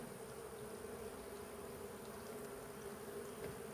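A steady, dense buzzing of many bees close by, continuous and even in loudness with no voices.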